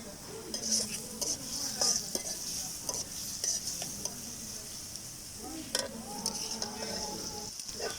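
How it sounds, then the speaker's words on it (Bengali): Onions, chillies and salt sizzle steadily in a pan while a spatula scrapes and stirs in repeated strokes, close and moderately quiet, with no talking over it. "তো সব কিছু এখন আমি 5 থেকে 7 মিনিট নাড়াচাড়া করে নেব।"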